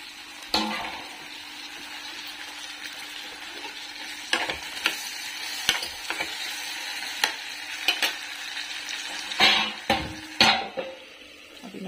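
Tinda sabzi, a round gourd curry, cooking in a pan at home, with a low steady sizzle under repeated scraping and clanking of a spoon against the metal pan, fairly close and with no talking.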